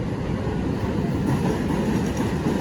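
Steady low rumble of roller coaster trains rolling into the station at Blackpool Pleasure Beach, with a broad continuous roar and no voices.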